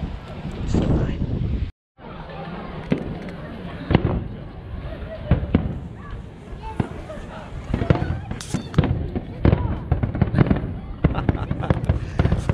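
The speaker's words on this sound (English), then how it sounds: "we're gonna watch some Japanese fireworks" A Japanese fireworks display bursts outdoors in Kinshicho, Tokyo, with repeated booming pops and crackles at irregular intervals, wind buffeting the microphone and people talking throughout.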